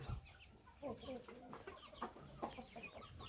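Thai fighting cock breeding stock clucking in a yard, several short soft clucks scattered across the moment at moderate distance, with faint background noise and no clear talk.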